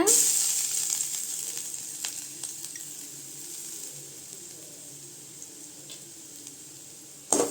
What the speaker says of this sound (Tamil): லைட்டாக வறுத்துக்கலாங்க